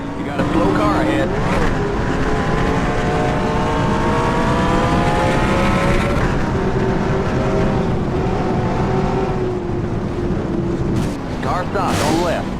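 Race cars driving on a track, a continuous loud engine drone with rising and falling pitch as cars pass and shift, a spotter's voice talking over the roar.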